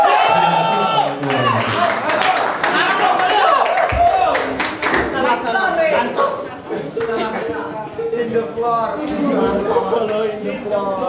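Audience applause with clapping and cheering after a musical poetry performance for Sumpah Pemuda, a dense crowd sound with whoops, running steadily throughout with voices mixed in.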